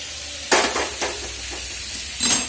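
Dal tipped into a hot pan hisses and sizzles in short bursts, followed by scraping stirring strokes and a final louder splash of sizzle, close and without talk.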